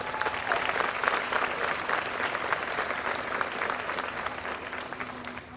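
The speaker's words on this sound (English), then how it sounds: "I think it's time to take a moment and give ourselves a round of applause." Graduates applauding at a 2021 commencement ceremony: a broad, continuous wash of clapping from a large crowd, steady and even throughout with no pauses, and a faint steady hum beneath it.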